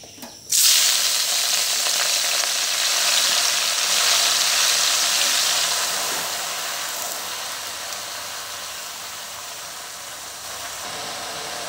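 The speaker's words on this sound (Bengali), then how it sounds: "আমি এই তেলের ভিতরেই শাকগুলো এখন দিয়ে" Jute greens drop into hot oil with a sudden loud sizzle that holds as a strong, steady frying hiss, then slowly eases off while still bubbling close by.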